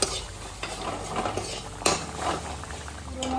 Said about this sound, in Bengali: সানলাইট গুঁড়ো মশলা দিয়ে মাংসটা নেড়ে ছেড়ে নামিয়ে